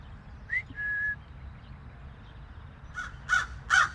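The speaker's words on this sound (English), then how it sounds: "I just came here to train the crows." Crows in a park give a couple of short caws, then after a quiet stretch a few louder harsh caws close by, over faint background noise.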